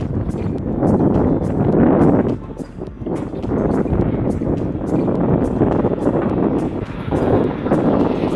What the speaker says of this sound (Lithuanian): Vėjelis tai toks neprastas, bet šiltas.